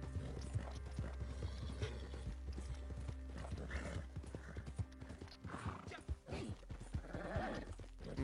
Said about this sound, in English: the little grunty noise you hear a lot at horse shows.